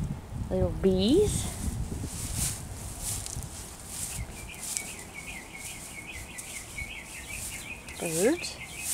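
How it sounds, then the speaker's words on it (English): Birds chirp in a garden, with short high calls near the start and a thin repeated twittering later, under a woman's speech and soft outdoor background. "Birds."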